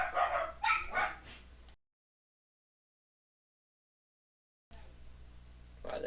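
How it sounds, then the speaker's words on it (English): Three household dogs bark at passers-by in a couple of sharp, fairly loud bursts, then fall silent and start up again briefly near the end. "I have 3 dogs, so anyone that walks past their bark,"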